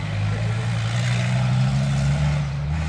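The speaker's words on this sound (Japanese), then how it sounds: "マフラーが破れちゃってるそうです。" A race cart engine with a torn muffler drones loudly and steadily at an extreme racing event, a low, rough, continuous buzz that holds nearly constant with no voices on top.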